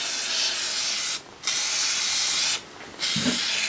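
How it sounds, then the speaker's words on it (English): Aerosol spray hissing onto a gummed-up Wolseley engine cylinder during reassembly, three loud, close bursts of bright hiss separated by short pauses. "It's kind of hard to see when it's all gummed up like that, but we're going to just spray"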